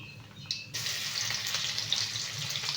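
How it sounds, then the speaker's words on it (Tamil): Food frying in hot oil with coconut, a steady bright sizzle that starts abruptly after a soft clatter and carries on evenly, close and moderately loud. "இதில் எண்ணெயில் நல்லா வறுப்படணும்"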